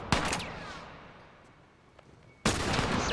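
Gunfire in The Last of Us: a sharp burst of shots at the start trails into a decaying echo, then another loud volley erupts near the end, close and dense.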